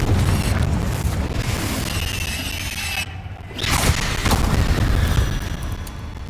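A Confringo blasting curse from the Hogwarts Legacy video game bursts amid a dense, noisy game mix: a loud crackling detonation with a brief dip before a sharp second blast swells and rings on.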